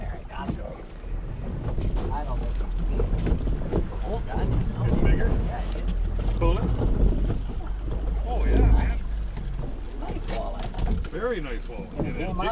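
Strong wind buffets the microphone on an open lake, with a boat out for walleye fishing, a constant low roar with gusts rising and falling close by while people talk over it.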